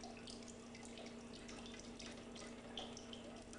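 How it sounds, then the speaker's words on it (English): Wort drips from a lifted brewing grain bag after steeping: a faint, continuous trickle with scattered soft drops falling into liquid, quiet and alone with no voices. "We'll let that drip out."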